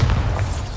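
Bombarda blasting spell in Hogwarts Legacy, a short heavy thump of an explosion with a low booming body, heard close and alone.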